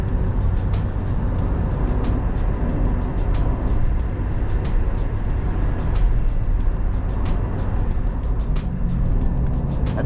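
A 2020 Suzuki Jimny's engine drones steadily at about 100 km/h and 3,000 RPM while driving at night, a loud, continuous low rumble with road noise and no talking.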